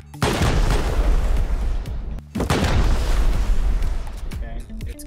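An automated turret fires continuous loud bursts of gunfire in a raiding video game, with a short break at the midpoint before it resumes. Close, heavy and dense, with voices shouting over it.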